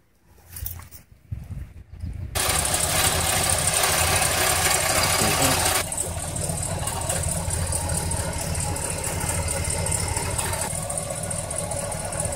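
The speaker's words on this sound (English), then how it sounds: "So this is the engine idling" A 1969 Oldsmobile Cutlass S engine idling steadily up close, a loud continuous rumble that kicks in after a brief quiet start and holds even with a slight drop partway through.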